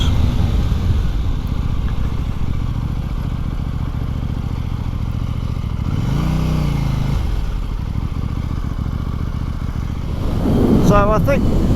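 A KTM 890R motorcycle being ridden produces a steady engine drone mixed with rushing wind. The engine swells louder near the end.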